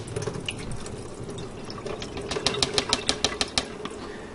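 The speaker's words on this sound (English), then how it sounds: "I just keep putting water" Water poured over tomato seeds in a container, a soft liquid wash followed by a quick run of sharp dripping, splashing ticks near the end, close and fairly quiet.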